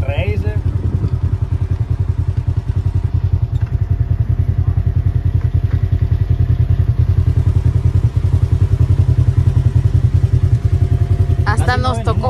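Motorcycles riding through downtown Oklahoma City, seen from a RZR: a loud, steady, throbbing engine drone runs throughout, with a brief rattle near the end and faint voices under it.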